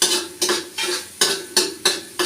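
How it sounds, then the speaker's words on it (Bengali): Spice paste fried and stirred in a pan for a fish curry, with six rhythmic scraping strokes about every half second over a steady sizzle, close and clear, no voices. "এখন আমি এই মশলাটা কষিয়ে নেব।"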